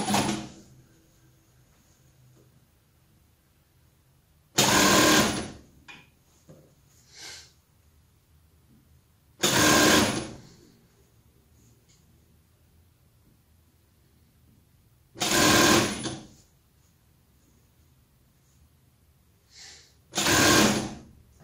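Sewing machine stitching the seam of a modest dress: five loud bursts of fast mechanical whirring, each lasting about a second, separated by long quiet pauses with faint handling noises.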